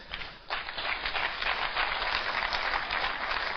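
An audience claps softly and steadily in a hall, a dense continuous patter of many hands, moderately distant and even throughout.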